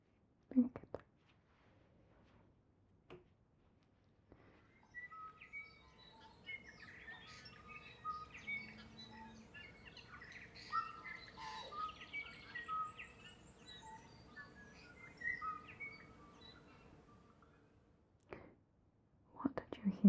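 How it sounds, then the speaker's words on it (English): A tui sings alone outdoors, its varied bright whistles, chirps and clicks tumbling in an unbroken stream for about thirteen seconds. Soft whispered voices come just before and after. "That particular one is a tui."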